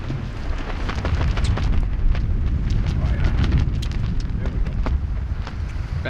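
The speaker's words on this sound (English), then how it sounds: "getting windy" Strong wind buffets a winter camp on a cliff during an arriving ice storm, a loud continuous rushing roar with gusty swells and crackling bursts against the microphone.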